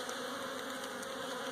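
Honeybees buzzing in a dense, steady drone at an open hive holding a large winter cluster on a cold day in the low 40s, continuous and close with no talk over it.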